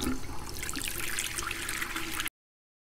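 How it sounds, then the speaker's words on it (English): Water runs steadily from a tap as hands are washed in a video game bathroom, a continuous close trickle with no talk that stops abruptly after about two seconds. "Wash your hands."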